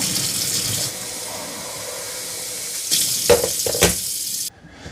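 Water runs steadily into the water tank of a Eureka E10s robot vacuum mop, a close hissing stream with a few sloshing bursts before it abruptly stops.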